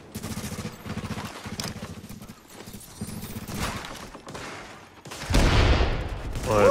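Gunfire in the Dark Zone of a shooter video game, heard as rapid, rattling bursts of shots in quick clusters, followed by a louder, denser burst of firing near the end.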